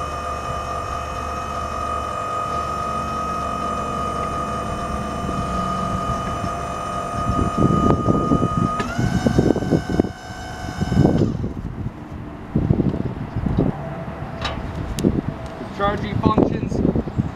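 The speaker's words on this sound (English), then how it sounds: "we can lower the boom and retract the boom simultaneously." A battery-powered reversible boom crane lowers and retracts its boom at once with a steady hydraulic motor whine that shifts pitch partway through. A person talks over the machine in the second half.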